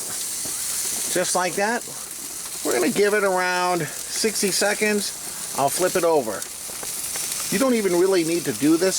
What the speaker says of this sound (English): I just want to get this really hot because we're just going to do a sear for literally like maybe a minute on each